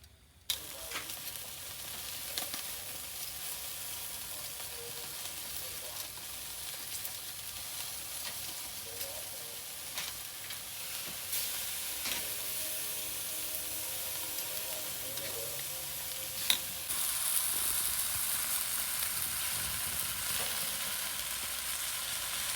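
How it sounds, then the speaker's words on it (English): Chicken and beef fry in a pan with a loud, continuous sizzle and hiss, occasional stirring clatter and a brief sharp knock partway through. "We are frying chicken and beef."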